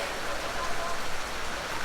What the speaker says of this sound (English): Big heavy downpour.